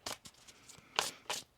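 Tarot cards shuffled by hand in a few quick riffling bursts, close and fairly quiet, with short pauses between them.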